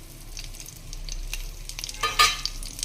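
Cumin and curry leaves hit hot oil with a soft, crackling sizzle, building to a sharper, brighter burst of spitting near the end; no voices.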